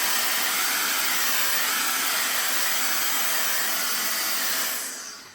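A Viralix air duster vacuum cleaner sucks up coffee grounds with a loud, steady, high-pitched whirring hiss close by that holds for several seconds, then winds down quickly at the end.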